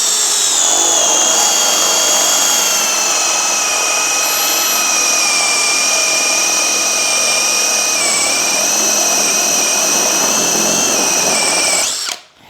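An Ingco brushless cordless drill whines steadily at high pitch as a large 32 mm spade bit bores through material, running loud and continuous before cutting off abruptly at the end.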